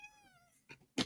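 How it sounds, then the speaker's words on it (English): A domestic cat gives a faint, drawn-out meow, followed by a couple of short, sharper sounds. "Can you guys hear my little cat?"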